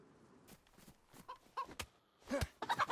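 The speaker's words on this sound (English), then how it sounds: "Good night, chicken." A chicken in the survival game DayZ clucks in a short series of quick, fairly close calls, each a sharp burst with no talk over it.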